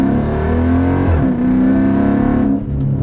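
A loud Dodge SRT8 engine revs hard and steadily, its pitch dipping and climbing again before cutting back near the end.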